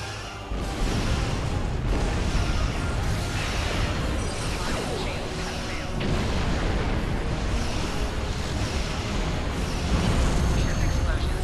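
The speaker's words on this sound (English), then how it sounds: "Ship explosions cause damage." Heavy, continuous explosions and booming blasts from starship combat in Star Trek Online, a Borg space battle, with loud rumbling detonations layered over a dense game soundtrack and a voice speaking throughout.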